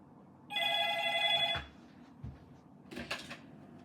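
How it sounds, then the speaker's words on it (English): A mobile phone rings in a quiet room, one bright electronic trill lasting about a second, followed by soft handling knocks and a brief rustle. "Ooh, my phone's going off."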